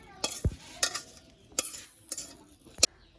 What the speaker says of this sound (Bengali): এই যে মাংস মাখামাখি করতেছে